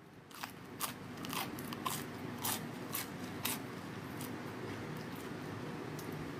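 Crisp, sharp crunches repeat about every half second, close and fairly quiet, as someone bites into nuggets air-fried at 180 degrees for 10 minutes.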